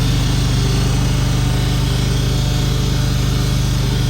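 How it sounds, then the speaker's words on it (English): A greens mower engine runs steadily on a golf course, a loud continuous motor hum with a fast, even pulse and no talk throughout. "Liking having my new greens mower back."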